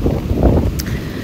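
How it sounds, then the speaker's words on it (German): Wind blowing at a beach in the Maldives, a brief, loud low buffeting rush against the microphone. "es ist zwar jetzt gerade hier schon auch noch ein bisschen windig"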